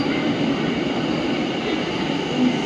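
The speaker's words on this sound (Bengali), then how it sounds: "পাপা এখন ট্রেনে করে বেরিয়ে যাচ্ছে" A Mumbai metro train runs steadily on its line toward Marine Drive, a continuous broadband rumble and hum of the rail carriage that holds an even level throughout with a brief swell near the end.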